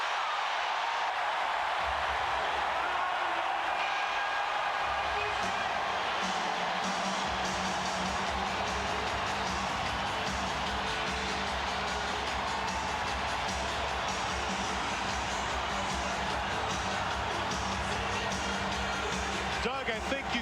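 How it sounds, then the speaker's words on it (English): A packed basketball arena crowd roars loudly and continuously during a timeout in a 1993 NBA playoff game, Knicks at Charlotte Hornets, the wall of cheering swelling and holding under a commentator's voice. "The crowd is going ballistic."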